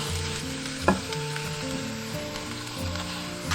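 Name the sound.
abalone chicken pieces sizzling on onions in preheated clay pot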